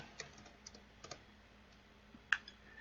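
Quiet, sparse keystrokes on a computer keyboard, a few isolated clicks and short bursts spread over a few seconds, with no talking.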